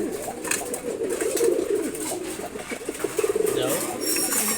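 Pigeons, including a khaki pigeon, coo in a low steady murmur at a morning feeding, with a burst of fluttering near the end and faint talking mixed in.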